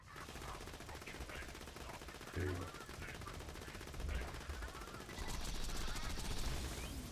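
Rapid gunfire from an Infinity pistol in the video game Borderlands 2, dense repeated shots with mechanical clicks under a busy game soundscape, intensifying toward the end.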